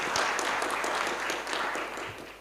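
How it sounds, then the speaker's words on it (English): Workshop audience applauding a presenter after her talk at a GIS innovation event. Many hands clap in a dense, steady burst throughout, with no voices over it. "Can we give her better clap?"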